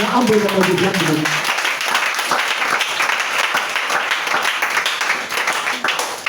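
A church congregation at a French-language service applauds and cheers for Jesus, a dense, steady wash of clapping and shouts that fills the space, opening with a preacher's voice heard briefly over the start.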